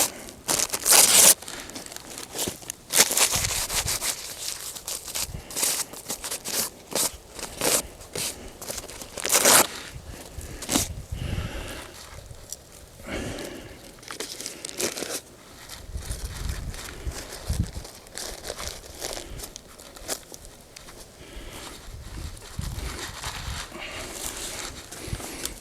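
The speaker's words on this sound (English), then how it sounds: "Going old school, wax paper." Wax paper crinkles and crackles up close while a trap is being set in big timber, with irregular bursts of rustling and sharper crunches over about half a minute and no voices.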